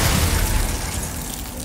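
In Hogwarts Legacy the Glacius ice spell goes off as a dense, loud, roaring burst that fades over under two seconds.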